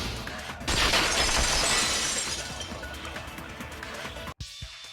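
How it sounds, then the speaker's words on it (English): Glass shatters in the video game Danganronpa 2: Goodbye Despair, a sudden loud crash that bursts out and then trails off in a long tinkling wash of falling shards before cutting away. "At the entrance hall, the girl heard the sound of the window shattering."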